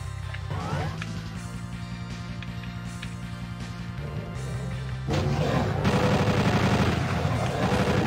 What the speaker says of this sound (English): this chain gun's a bit better than the default Doom 2 one